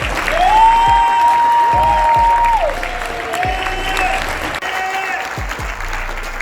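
At a scholarship dinner, an audience applauds to welcome a speaker: sustained, loud, even clapping from a large room, with a steady high ringing tone running through it and a few voices underneath.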